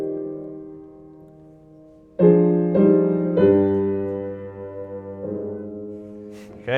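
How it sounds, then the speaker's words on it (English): Evaded cadence played on a piano as a lecture example: a soft chord fades, then a stronger run of chords enters and shifts into a new low harmony rather than resolving, ringing close and clear with no voices. "This is what's known as an evaded cadence."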